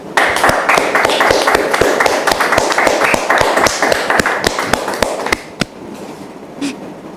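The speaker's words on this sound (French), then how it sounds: "merci de le recevoir sous vos applaudissements, s'il vous plaît" An audience gives a guest a loud, dense burst of applause, with sharp, rapid claps running for about five seconds before breaking off into a few scattered claps and quiet.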